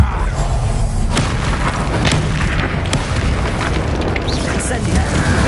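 Incendio fire spell in the video game Hogwarts Legacy, a loud, continuous roaring rumble with dense crackle and several sharp booming bursts throughout, close and filling the whole stretch, with indistinct vocal sounds blended into the din.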